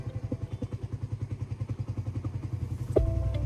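A motorcycle engine idles and putters with a steady rapid thumping pulse, close and fairly loud, then revs up near the end as the bike pulls off on a road.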